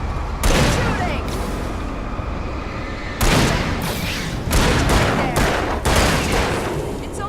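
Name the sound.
gunfire from the video game Alan Wake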